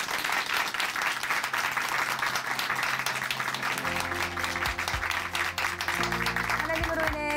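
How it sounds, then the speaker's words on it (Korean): A church congregation applauds after a testimony, steady clapping throughout while organ or keyboard music enters and sustains beneath it in the second half. "다시 한번 큰 박수 보내드릴게요."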